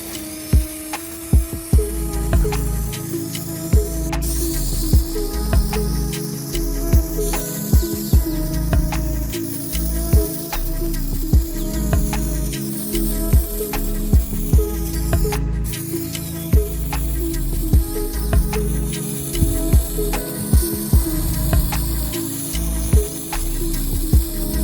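Spray can laying a second coat of paint on a 3rd-gen Toyota 4Runner hood, steady hissing bursts with short gaps and clicks between passes, close and continuous, no talking.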